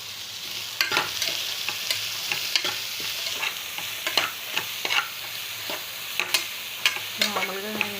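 Ridge gourd pieces sizzle steadily in hot oil in a pan, broken by repeated sharp scrapes and clinks of a spatula stirring, close and fairly loud with no talk.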